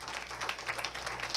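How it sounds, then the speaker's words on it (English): Church congregation at a Sunday service applauds the praise and worship team, giving a brief burst of steady hand clapping at moderate loudness. "Give them a great hand clap."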